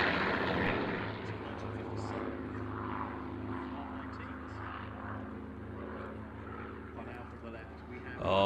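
A B-17 bomber at Duxford, its propeller engines giving a steady loud droning roar throughout, with a rising surge at the very end.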